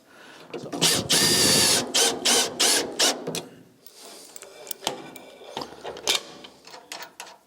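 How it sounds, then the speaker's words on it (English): A power drill whines in several loud bursts drilling a hole in a metal panel of an MGB GT, then drops to quieter clicks and handling noises. "So I decided to drill a hole right here"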